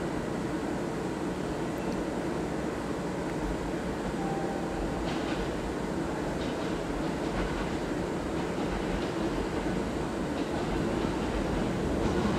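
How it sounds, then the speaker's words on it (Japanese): Steady rumble of a Kintetsu 9000 series train departing Yokkaichi Station late at night, broadband and continuous with faint metallic clatter, no voices. "まもなく4番乗り場から富吉行きが発車します。"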